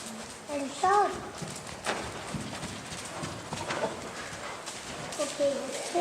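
A horse walks at home in Møldrup, its hooves giving soft, irregular clip-clops on the ground, muffled and fairly near, with people talking over them.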